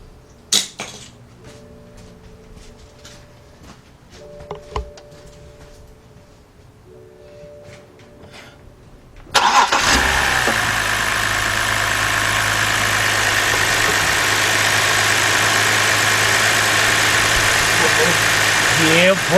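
The 3.0-litre engine of a 2010 BMW 528i with a cylinder 4 misfire cranks and catches partway through, then settles into a loud, steady idle. Quiet clicks and shuffling come before the start.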